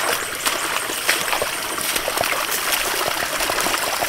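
Water flows steadily after the source feeding an electricity-free water pump is opened, a continuous close trickling and gushing stream with small splashes throughout.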